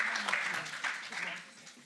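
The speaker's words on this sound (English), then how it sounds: "Let's keep the applause going for Amber." Brief applause for a prize winner at a start-up day event, a modest burst of clapping that fades toward the end, fairly quiet.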